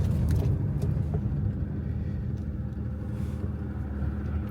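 A BMW E21 fitted with an M50/M52 engine builds speed, its deep engine rumble and road noise holding steady and fairly close from start to finish, with no voices.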